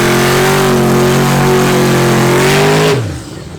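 Street race cars launching at a legal street race, among them a black turbo Fox body, engines roaring loud and close in a sustained high-revving wail that drops away abruptly near the end.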